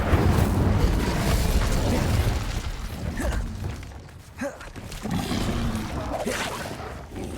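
A fire spell cast in the Hogwarts Legacy video game, a dense roaring whoosh of flame that swells and fades, with a few sharp crackling bursts in the middle and background combat noise.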